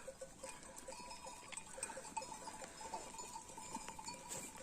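A large flock of more than 300 sheep grazing on a mountainside gives faint, distant bleats mixed with light clinking bells over a soft, steady outdoor hush.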